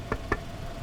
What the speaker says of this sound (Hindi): एक अफसर गाड़ी के कांच पर दस्तक देता है